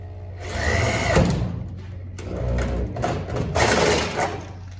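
A power drill with a worn-out hole saw whirs and grinds through a rat rod's engine bay in two long bursts with a short pause between, loud and close.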